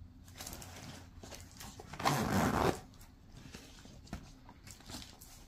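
A zipper runs along a pocket of a convertible travel tote bag, one close, quick rasping pull amid soft handling rustles, with no talking.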